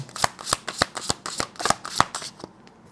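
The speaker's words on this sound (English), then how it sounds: "Let's get some more cards." Cards are shuffled in a quick, regular series of about ten crisp snaps and riffles, close and fairly loud, before it falls quiet.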